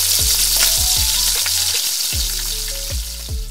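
Spice paste mixture hitting hot oil in a kadai for a crab dish, a loud bright crackling sizzle throughout, with tonal sounds running underneath.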